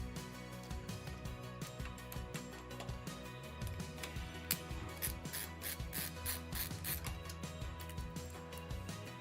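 A screwdriver ratchets and clicks in a rapid, steady rhythm while screws come out of a PC build, close and fairly quiet, with a repeated mechanical whirring and no talk over it.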